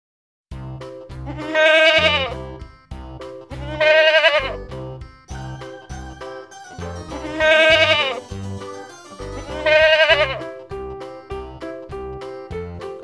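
A young goat kid bleats four times in a regular rhythm, each call long and wavering, loud and close, over a steady musical backing.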